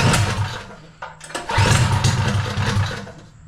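A 212 engine on a Ghost go-kart sputters at a rough, uneven idle, nearly stalling for a moment before catching and running on steadily, close and fairly loud.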